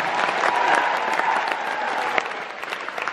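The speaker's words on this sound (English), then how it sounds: "Give yourselves a huge round of applause" A large audience at the opening ceremony of the World Scholar's Cup Sydney Global Round applauds itself with steady, dense clapping that fills the hall and stays fairly even in level throughout.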